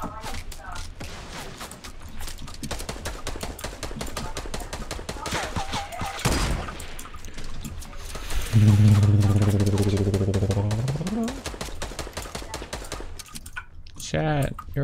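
Rapid video game gunfire crackles in dense bursts from several shooters firing at a house rooftop, with a player talking over it and a loud whooshing blast near the middle.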